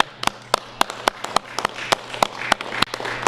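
A small group at a governor's executive order signing claps, with sharp distinct hand claps at an uneven pace over a low steady hum.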